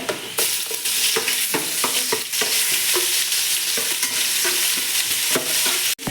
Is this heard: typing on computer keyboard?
no